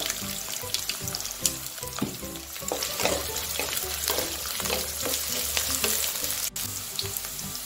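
Vegetables such as carrot being dropped piece by piece into hot oil with browned onion for Hakka noodles, giving a steady loud sizzle with scattered clatters and stirring knocks, no voices.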